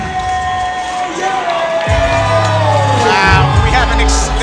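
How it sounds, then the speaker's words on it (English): A crowd at a live MMA fight night roars, cheers and shouts before the bout. The noise is loud and sustained, with a booming amplified announcer's voice running over it. "the crowd is excited for this fight too"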